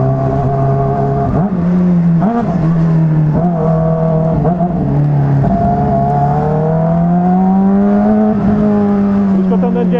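A Honda CBR motorcycle engine drones while being ridden, a close, steady tone that dips and rises in pitch as the throttle changes, continuing without any talk.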